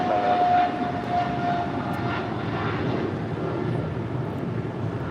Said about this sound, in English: That is Qatar Cargo 8172 departing to Liège on a 777 freighter.